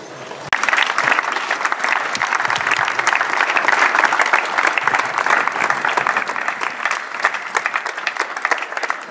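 Mourners at a funeral break into sustained, loud applause after a short pause, a thick even wash of clapping that holds steady for roughly eight seconds with little talk.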